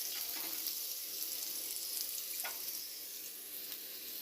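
Onion and rosemary sizzle in a lightly greased pot, a steady, fairly quiet crackling fry with a few faint utensil clicks and no speech.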